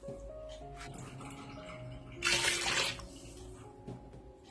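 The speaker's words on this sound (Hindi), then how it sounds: "इसके बाद 2 कप के करीब पानी ऐड करेंगे आप।" About two cups of water is poured into chana dal and meat in a pressure cooker, a short, close gush of splashing liquid rising over a low background hum.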